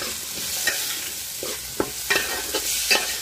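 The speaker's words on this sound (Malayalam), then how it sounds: "ഇതൊക്കെ നമുക്ക് നന്നായിട്ട് ഇളക്കാം." Salted green mango pickle gets stirred in a pan: intermittent scrapes and taps of a spoon against the metal, near and fairly quiet, over a faint steady hiss.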